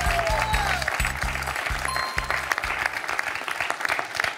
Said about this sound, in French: Bravo Sylvie, on peut l'applaudir.